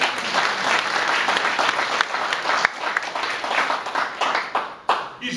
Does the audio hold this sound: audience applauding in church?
yes